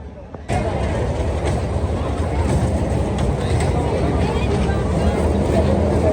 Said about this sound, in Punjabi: ਉਧਰ ਪਾਸੇ ਟ੍ਰੇਨ ਚੱਲੀ ਜਾਂਦੀ ਆ ਨਾ